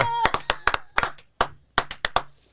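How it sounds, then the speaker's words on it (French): A small audience claps for the winner of an improv game, in uneven bursts of loud, close hand claps that start and stop over a couple of seconds, with a voice briefly heard at the start. "On peut applaudir la gagnante de ce jeu, Bravo."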